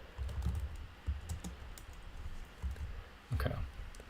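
Soft clicks of typing on a computer keyboard come in short irregular bursts with pauses between them, fairly close and quiet, with no talking.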